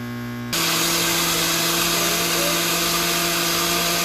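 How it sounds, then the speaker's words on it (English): A kitchen blender blending plantain and oats porridge switches on after a short hum and runs loud and steady, a high whirring motor that continues to the end. "So I'm just gonna put the blender on grate."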